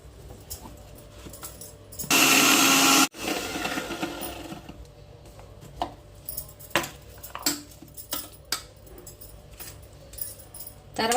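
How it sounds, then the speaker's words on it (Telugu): A kitchen mixer grinder whirs through onion and tomato for a paste in one loud, roughly one-second burst, then quieter clinks and handling noises follow. "ముందైతే మిక్సీ పట్టుకున్నాము"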